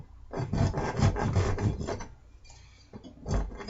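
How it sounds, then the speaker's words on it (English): A hand file rasps across a metal rod being filed flat, a series of rhythmic back-and-forth scraping strokes, close and loud, with a short pause before the strokes resume. "I'm going to file it nice and flat so the head of my hammer has something"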